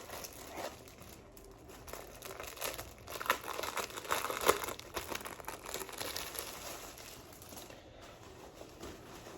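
Sheets of gift-basket paper crinkle and rustle steadily as they are handled, with denser crumpling bursts in the middle, close and fairly loud with no talking.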